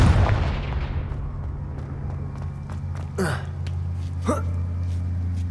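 Confringo blast spell from the video game Hogwarts Legacy, a booming explosion that rumbles and fades, followed by two sharp whooshing spell bursts over a low steady game hum.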